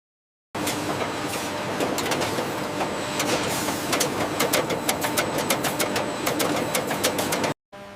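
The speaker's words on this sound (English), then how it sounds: "The deburring wheels spin at high velocity." Deburring wheels spin at high velocity in an aluminium can recycling plant, a dense steady industrial whir with rapid clicking and ticking bursts over about seven seconds, no talk.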